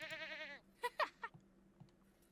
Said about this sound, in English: she is going ahead and milking the goat